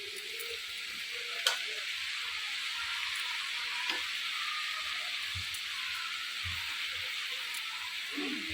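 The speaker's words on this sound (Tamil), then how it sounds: "வெங்காயத்தை இந்த மாதிரி லைட்டாக வதக்கிட்டு" Steady crackling sizzle of onions frying in a pan, continuous and close, with a few soft stirring knocks and clinks.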